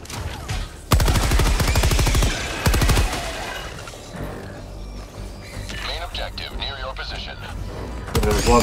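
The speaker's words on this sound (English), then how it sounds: "Got our machine gun here." Bursts of machine gun fire in the video game Helldivers 2, loud rapid automatic shots in two strong bursts, followed by further combat noise and someone talking.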